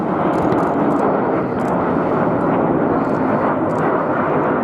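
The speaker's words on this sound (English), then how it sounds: "Going upside down now, all 9 aircraft together in the shape of an aircraft, which is Spitfire." RAF Red Arrows jets fly an air display with nine aircraft in formation, giving a loud continuous roar that fills the air without letup and carries no voices.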